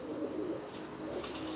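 Iraqi blue pigeons in a breeder's loft coo in low, steady murmurs that run continuously without pause, with a faint higher hiss above them.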